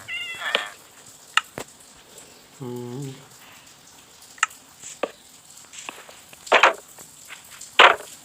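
Cats in the video game Minecraft let out several short, clear meows spread across the stretch, one early and others near the end, with sharp clicks and a lower warbling cry in between.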